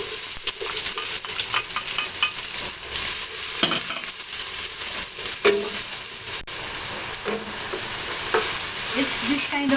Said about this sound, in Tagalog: after we saute garlic and onion